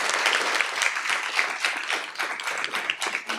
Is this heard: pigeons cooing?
no